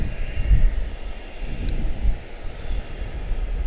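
A heavy jet airliner rumbles along the taxiway toward runway 18 Center at Charlotte-Douglas, a steady low engine roar at moderate distance with no talk.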